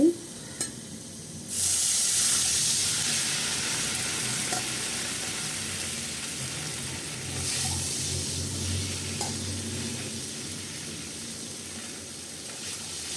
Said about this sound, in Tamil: தண்ணி நல்லா கொதிக்க ஆரம்பிச்சிருச்சு